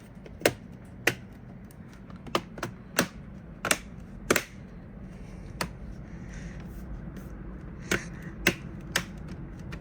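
Lenovo laptop keyboard keys are pressed back into place, making about a dozen sharp plastic snaps at irregular intervals over a low background hum.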